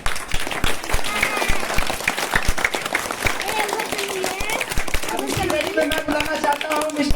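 Sharp, rapid clapping from an audience at a Gandhi Jayanti celebration held by a coaching class, sounding close and steady throughout, with a voice talking over the later part.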